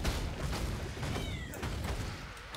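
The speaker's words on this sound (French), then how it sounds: "Je pense que vous entendez le chat." A cat meows once or twice in a short rising cry, heard over a dense, loud layer of noise.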